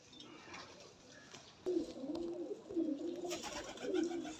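Pigeons coo in soft, repeated low rolling calls, several phrases in sequence against a quiet background hiss, fairly close and with no talking.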